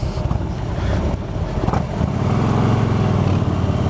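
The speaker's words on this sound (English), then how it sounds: "I thought I would bring you into some red lights here, and even at idle, the bike just sounds meaner" A motorcycle with a stage one upgrade idles at red lights, its engine giving a steady, close, throaty rumble with wind noise buffeting the microphone throughout.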